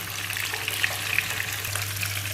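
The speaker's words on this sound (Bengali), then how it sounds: "আর এখন ডিমগুলো ভাজা হচ্ছে" Eggs frying in hot oil, pre-coated with salt, turmeric and chilli powder for a dhaba-style egg masala, give a steady, moderate sizzle with faint crackles and a low hum beneath, with no talking.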